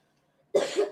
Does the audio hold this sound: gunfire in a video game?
no